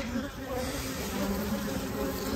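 Honeybees buzz steadily across an opened hive frame during a brood inspection, a dense close drone holding at even loudness throughout with no talk over it.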